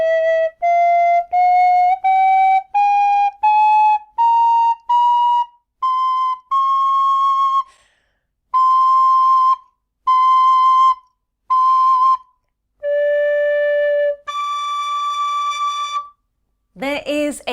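Burke High D tin whistle playing a rising scale of clear, bright single notes, then a few held notes and a higher run, close and loud with short gaps between them and no talk.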